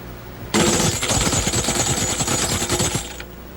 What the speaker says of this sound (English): tambourine,